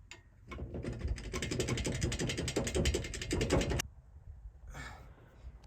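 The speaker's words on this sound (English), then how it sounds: "Now I'm removing the bolt that holds in my steering shaft" A ratchet clicks rapidly and steadily for a few seconds while loosening the steering shaft bolt on a Jeep Cherokee, close and fairly loud, followed by a brief quieter clatter.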